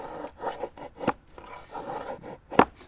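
A knife carves fine curls from wood in a series of short, rasping scrapes, each stroke close and distinct, with brief pauses between them.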